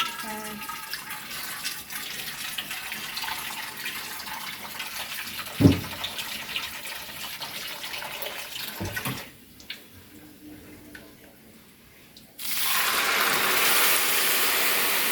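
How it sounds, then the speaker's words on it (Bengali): Water poured into a cooking pot while a dish is being prepared for a Jamai Sasthi meal, a splashing, running flow at the end following kitchen clatter and a voice. "এবার জলটা দেবো"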